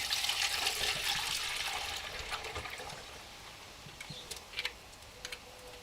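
Water and fish roe pouring into a sieve in a kitchen, a soft continuous splashing and trickling that is strongest at first and then tapers into scattered drips and light taps.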